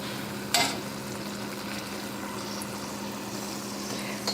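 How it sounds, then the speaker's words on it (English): Pastry dough for Schmalzgebäck frying in hot oil, a steady close sizzle and bubble with one brief louder burst as the piece goes in. "I heated some frying oil, and I will now see if the oil is hot enough"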